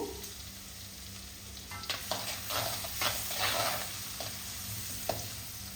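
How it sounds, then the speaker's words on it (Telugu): Chopped garlic and onions frying in a hot pan for Indo-Chinese vegetable fried rice, a steady sizzle broken by repeated scraping stirs of a spatula, close and fairly quiet with no talking. "కట్ చేసి పెట్టుకున్న వెల్లుల్లిపాయలు, కట్ చేసి పెట్టుకున్న ఆనియన్స్, ఈ రెండు ఒక్కసారి వేసుకున్న తర్వాత ఒకసారి మిక్స్ చేసుకుందాము"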